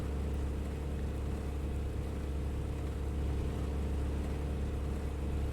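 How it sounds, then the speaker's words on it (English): Aircraft engine in War Thunder drones steadily and loudly throughout, a continuous, unbroken propeller-engine roar with no voices. "We can push the engine even more here because of the low temperature."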